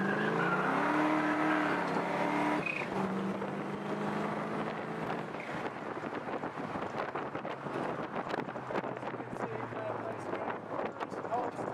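A 1967 Shelby Mustang tribute with a MagnaFlow exhaust and polished tailpipes drives along a bumpy road, its engine a steady loud drone mixed with wind buffeting and road rumble throughout.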